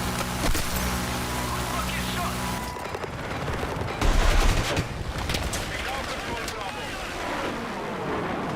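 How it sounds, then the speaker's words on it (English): Explosions from barrels blowing up in a video game, heavy booming bursts with dense gunfire-like crackle and rumble over layered game music and engine noise, with a loud low burst near the middle. "The exploding barrels pushed us"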